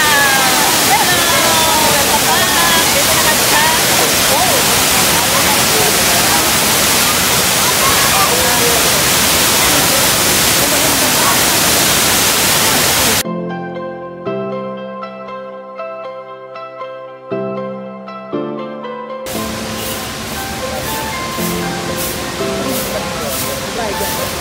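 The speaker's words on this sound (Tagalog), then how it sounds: "dito na kami sa falls" A waterfall roars as a loud, continuous broadband rush for the first half, then cuts off to a stretch of music.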